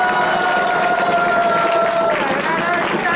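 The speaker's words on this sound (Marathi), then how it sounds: "तर ह्यांच्यासाठी पण जोरदार टाळ्या." Loud, dense applause and cheering from a crowd gathered for the Rajgad circuit trek, honouring the volunteers who opened the route, with steady clapping filling the whole moment.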